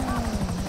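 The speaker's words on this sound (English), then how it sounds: "Oh, helicopter" Helicopter in the game GTA V Online, a loud, close rotor drone with a fast rhythmic chop through the whole brief moment, voices talking over it.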